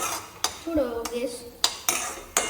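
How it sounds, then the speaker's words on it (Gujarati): Semolina sheera being stirred in a metal pan, with a spoon scraping and clinking against the sides in a few sharp knocks and scrapes at close range, fairly quiet. "આ રીતના એકદમ હલાવતા રહેવાનું."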